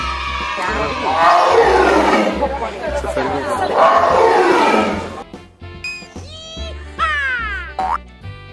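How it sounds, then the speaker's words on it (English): An orange toy tiger plays a loud roaring sound effect that lasts several seconds, followed by cartoonish springy boing sweeps. Voices and excited chatter are heard alongside. "Orange tiger."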